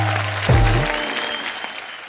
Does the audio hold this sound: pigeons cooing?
no